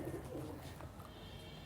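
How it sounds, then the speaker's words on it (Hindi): Pigeons coo softly nearby, with low, rounded calls rising and falling over a faint background hum. "तो ये मेरे बड़े मशहूर कबूतर हैं जी माशाल्लाह"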